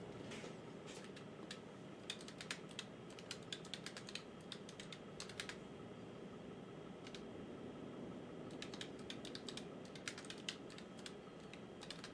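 Someone types on a computer keyboard in irregular bursts of quick, light clicks, fairly faint over a steady low room hum.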